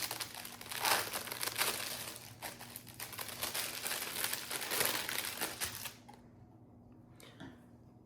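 Crinkly plastic packaging rustles close up in a steady stream of crackles for about six seconds, then stops, leaving quiet room tone with one faint rustle near the end.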